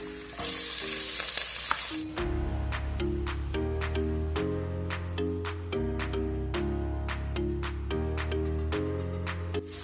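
Chopped onions dropped into hot frying oil: a loud burst of sizzling at the start settles into steady crackling frying, with tonal music playing over it.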